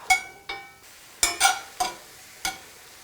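Mushrooms cooking in a little oil in a well-seasoned pan: a handful of distinct sharp clacks and scrapes of a utensil against the pan over a faint low sizzle, close up, with no voices.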